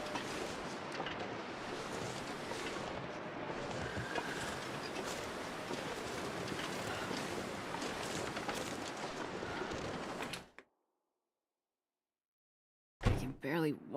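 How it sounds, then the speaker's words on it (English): Strong headwind in a hunting video game howls as a steady, heavy gusting roar for about ten seconds, then cuts off abruptly into silence before a brief burst of noise at the end. "This headwind is horrible."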